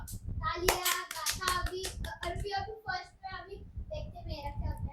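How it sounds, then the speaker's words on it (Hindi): Brief bursts of hand clapping near the start of a children's quiz game, mixed with children's voices talking and calling out over the applause. "तो तालियां।"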